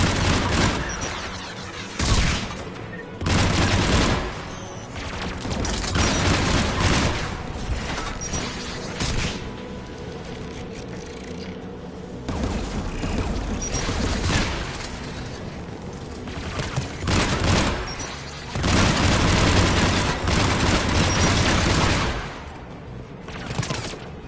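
Anti-aircraft guns firing in a video game battle, loud sustained bursts of heavy gunfire and booms rolling in waves amid mechanical clatter, with no voices heard.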